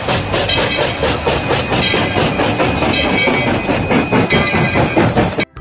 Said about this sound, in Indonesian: Yang ini ada kereta Thomas.